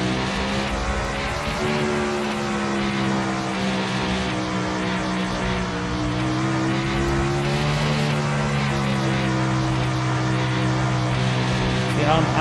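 Winged sprint car engine held at full throttle in iRacing, a loud continuous high-revving roar with steady harmonic drone and slight pitch swells through the corners, with no talking.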